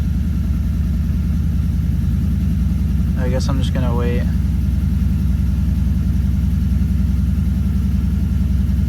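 A 2006–2014 Lexus IS250 engine idles steadily and loudly right after starting, a continuous low rumble running the whole time while a person speaks briefly over it.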